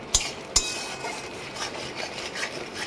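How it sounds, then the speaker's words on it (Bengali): Chhana being stirred in a pan into a soft dough for sandesh, two sharp knocks of a utensil against the pan followed by soft, continuous scraping and rubbing, close and fairly quiet, with no talking. "দিয়ে এবার ভালো করে নাড়তে থাকবো যতক্ষণ না একটা ডো ফর্মে আসছে"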